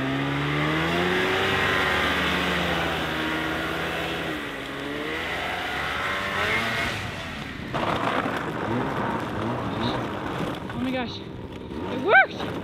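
A pickup truck engine revs and labors uphill while towing a roadkill moose in Alaska, a steady loud drone that dips and surges, with voices talking over it and a sharp exclamation near the end.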